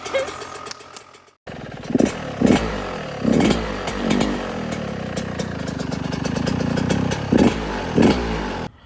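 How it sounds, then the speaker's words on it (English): A motorcycle with a freshly rebuilt top end revs and idles as it is ridden around a neighborhood, loud and close, with repeated throttle blips and a steady run in the middle after a brief silent gap at the start. "I took the bike for just a spin around the neighborhood real quick just to get her broken in"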